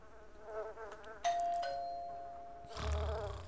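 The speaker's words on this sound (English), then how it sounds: "Ding dong." A doorbell chimes in The Sims Busting Out, a sustained ding tone ringing out clearly over a faint buzzing game background, followed by a louder low rumble near the end.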